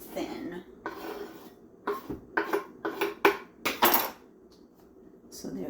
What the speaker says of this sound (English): I'm just going to put them in the bowl of the chickpeas.